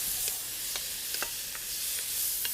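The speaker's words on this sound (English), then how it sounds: "In the middle, sizzle's still going." Flank steak and leeks sizzle in a hot wok, a constant hissing fry with occasional sharp pops and crackles, close and moderately loud, no voices.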